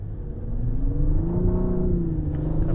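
A 2020 Lexus LS 500 F Sport sedan in Sport Plus mode pulls away with a smooth, rising engine drone. The note climbs steadily, heard from inside the cabin over a low road rumble.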